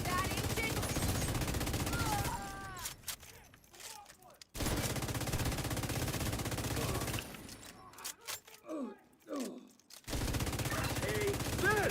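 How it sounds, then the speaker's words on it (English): Video game combat with grenade launcher fire: bursts of rapid explosive shots and gunfire, loud and dense, broken by short quieter gaps with brief in-game effects. "Wait, are these grenade shots?"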